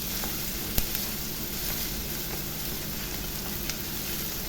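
Onions sautéing in a pan for a spinach thoran, a steady fine sizzle and crackle with faint scattered ticks of stirring, continuous and close with no voices.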